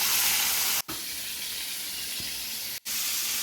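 Chicken drumsticks and wings fry in hot oil, giving a steady, loud hiss and sizzle that cuts out twice for a moment and then resumes.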